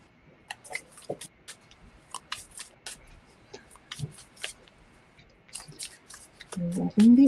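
Tarot cards shuffled by hand during a live intuitive reading, heard as soft, quiet riffling flicks and taps scattered through the clip, with a louder brushing rustle near the end.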